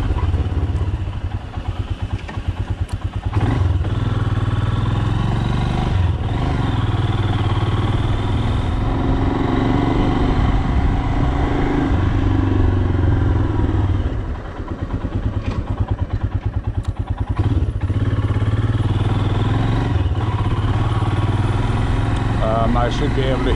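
A motorcycle engine rumbles steadily at low speed through city neighborhood streets, close and constant, with wind noise and a rider talking over it.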